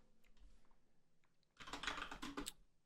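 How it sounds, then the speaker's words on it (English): Fast, close typing on a computer keyboard, a quiet burst of clicky keystrokes that starts after a soft lead-in. "Typing in the wrong place."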